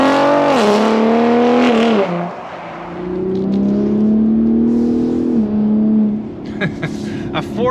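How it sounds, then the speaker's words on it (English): A Gen 3 Ford Raptor V6 with its exhaust in Baja mode revs loud and close. The engine rises and falls in pitch through a few throttle blips before settling into a steadier drone, with voices faintly present. "A Ford Raptor actually sounds a little bit like a Nissan GTR."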